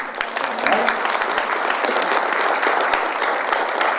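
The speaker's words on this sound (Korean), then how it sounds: "박수 한번 보내주세요" Audience applause at a book-of-the-year proclamation ceremony and author lecture in Gongju, sustained dense clapping throughout at a steady level, fairly close.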